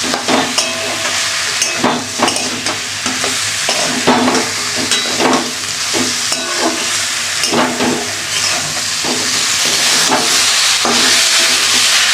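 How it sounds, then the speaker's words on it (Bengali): Vegetables stir-fried with grated coconut in a pan for a vegetarian dish sizzle loudly and close up, with repeated scraping stirs at an uneven rhythm and no talking. "নারকেল কুড়া দিয়ে দিলাম। আবারও ভালোভাবে কষিয়ে নেব।"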